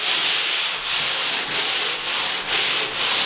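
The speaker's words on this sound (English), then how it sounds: "I've got a round sander. You can put this on a paint stick. And I've got some 100 grit on here." A round sander fitted with 100 grit sandpaper scrubs across a wall in steady, close rasping strokes, with a short regular dip roughly every half second as each pass changes direction.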